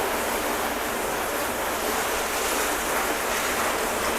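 A steady, loud spray of water rinses a coated car after a wash, giving an unbroken, even hiss that lasts throughout with no breaks.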